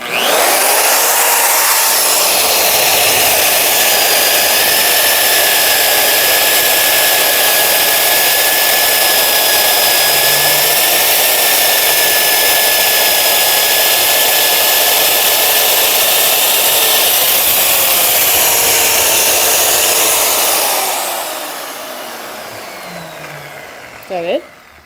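A magnetic drill with an annular cutter bores through steel, a loud sustained whining motor with a grinding cut for about twenty seconds before it winds down, followed by a small clatter.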